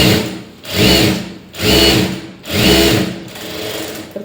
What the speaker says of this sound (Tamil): சேம் இன்னொரு ஸ்லீவையும் நீங்கள் அதே மாதிரி இப்படி திருப்பி விட்டுட்டு லைனிங் மேலே தையல் போட்டுக்கோங்க.